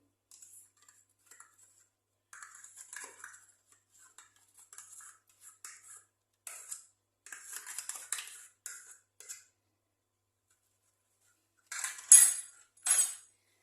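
Spoon clinking and scraping against a bowl while sugar, vanilla and caramel are mixed for sablé biscuits, irregular bursts of close metallic taps with short pauses, ending in a few louder strikes.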